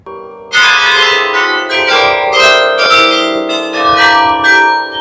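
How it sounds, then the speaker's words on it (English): The belfry carillon in Bruges chimes a tune, slightly out of tune. Several loud, close bell strikes ring out and overlap into a sustained, resonant peal, with no talk. "every 15 minutes these bells chime and they play tunes"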